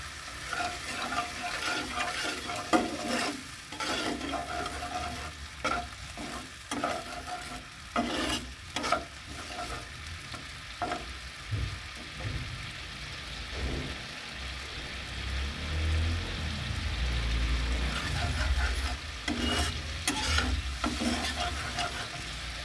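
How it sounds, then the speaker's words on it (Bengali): Masala with a splash of milk being sautéed in a pan, a spoon repeatedly scraping and stirring over a crackling sizzle, with bursts of louder frying, close and without speech. "মশলাটা এখন সুন্দর করে কষিয়ে নেব"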